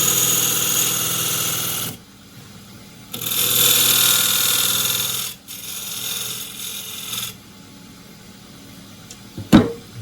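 A woodturning tool cuts a thin green elm bowl spinning on a lathe, giving three sustained bursts of hissing, scraping shavings separated by short pauses, then a single sharp knock near the end.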